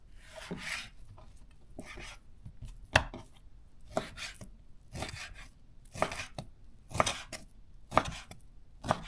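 A Zwilling self-sharpening kitchen knife cuts meat into cubes on a wooden board, with repeated sharp chops and short slicing rubs at an irregular rhythm, close and clear.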